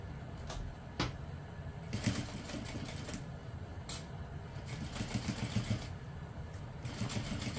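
A sewing machine bastes a handbag seam with a quarter-inch seam allowance, faint rattling stitching in short uneven bursts with brief clicks between them, no talk.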